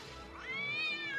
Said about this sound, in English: It's the sound of a cat.